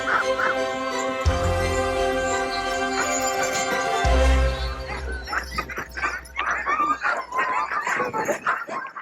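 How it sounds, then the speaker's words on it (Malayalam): Huskies in a row of outdoor kennels bark in loud, overlapping bursts that crowd together near the end, following a stretch of low rumbling background noise. "ഈ നായ്ക്കളൊക്കെ ഭയങ്കര കുരയാണ്."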